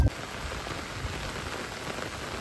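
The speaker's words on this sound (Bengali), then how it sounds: "আর দেখুন বৃষ্টি তো হয়েই চলেছে লাগাতার 2 দিন।" Steady rain during two days of downpour by a river on a fishing outing, a continuous even hiss of drops falling on surfaces, moderately loud and without talk.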